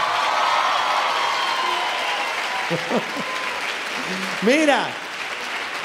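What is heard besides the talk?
studio audience applause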